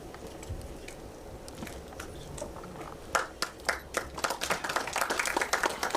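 Low murmur and shuffling give way to a burst of audience applause at a song launch event that builds and thickens over the last few seconds.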